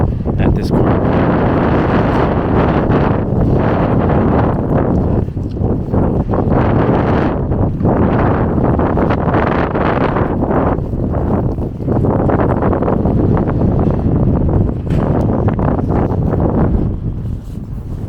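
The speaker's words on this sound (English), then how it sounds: "Waiting for a moment where there's no wind" Strong wind buffets the microphone on Bloor Street West in Toronto, a loud, continuous rumbling roar with gusty swells that lasts the whole stretch without a break.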